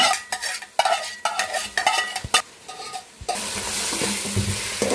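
Chicken curry sizzling in a pan while a spoon stirs it in quick scraping strokes, then settling into a steady frying hiss for the last couple of seconds.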